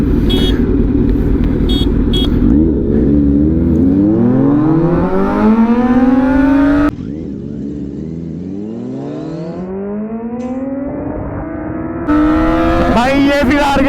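A 948cc motorcycle in road mode pulls hard in first gear, its engine note rising steadily in pitch and loud up close, then dropping back and climbing again in two more long runs.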